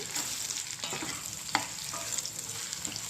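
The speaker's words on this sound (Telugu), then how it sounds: "ఇంకా బాగా ఫ్రై అయిపోవాలి ఇవన్నీ." Bitter gourd pieces fry in a pan with a continuous close sizzle, broken by a few scraping stirs and one sharper clack near the middle.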